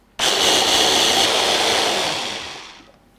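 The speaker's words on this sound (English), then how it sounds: "I'm gonna blend this down using the chopper cup of my immersion blender" Immersion blender with a chopper cup blending a strawberry and cottage cheese mixture: a loud, steady high-pitched motor whir starts abruptly and runs alone for about three seconds, tapering slightly toward the end.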